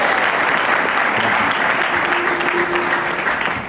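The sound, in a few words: studio audience applause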